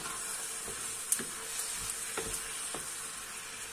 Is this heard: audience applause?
no